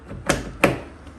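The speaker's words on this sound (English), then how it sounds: "Lock, locks the door" A BMW car door lock actuator locks the door with two sharp mechanical clunks about a third of a second apart, close and fairly quiet.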